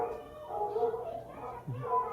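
Dogs bark and whine faintly within an animatronic scene on the Carousel of Progress ride at Walt Disney World, mixed under voices speaking over the background.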